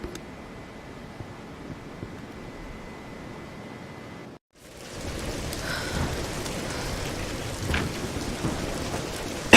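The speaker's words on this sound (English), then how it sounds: "We're getting closer to the storm." Thunderstorm with steady heavy rain in the Tomb Raider video game: a constant rain hiss drops out briefly, then returns louder with deep rolling thunder rumbles, no voices.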